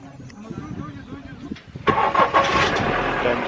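A tempo vehicle's engine cranks and catches at once, then settles into a loud, rough idle close by, while people talk around it.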